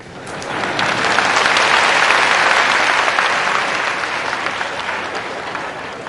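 An audience at a Janmashtami satsang in Surat clapping together, a loud, dense, sustained wave of applause that swells in the middle and tapers slightly toward the end.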